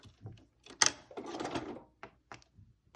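A sewing machine runs in short, uneven bursts while stitching the folded sides of a cloth face mask together, with brief pauses between the runs of stitching and no talking.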